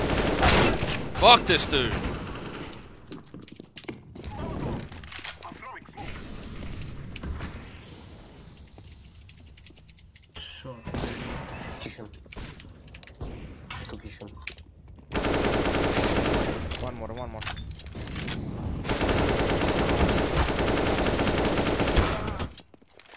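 Gunfire in the video game CS:GO: rapid automatic bursts and single shots crackle repeatedly, with loud sustained stretches of firing, mixed with game mechanisms and a player shouting over it.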